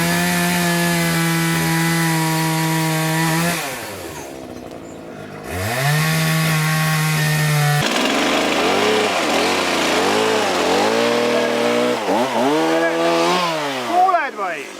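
A chainsaw cuts wood with loud, steady engine drones that drop away briefly, then rev and bog repeatedly as it bites into the timber, close by.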